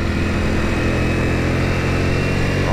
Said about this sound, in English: The revs, I'm still running it in, getting a bit too giddy.